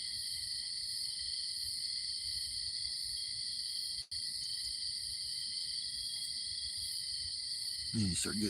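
Crickets chirp in a steady, high-pitched chorus at a campsite by a fire, faint and even throughout, with a brief dropout in the middle and a rustle near the end.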